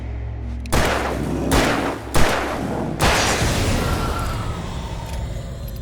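Gunshots in the Alan Wake video game: three loud, booming blasts spaced about a second apart, each trailing into a long reverberant rumble that fades out.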